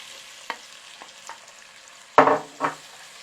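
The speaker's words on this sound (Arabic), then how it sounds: "وهلا بننزل عليهم البصل وبنعمل لهم تحميصة" Chopped onions drop into hot olive oil with garlic and pepper, a low sizzle with a few soft stirring clicks and then two louder bursts of sizzling and scraping near the end.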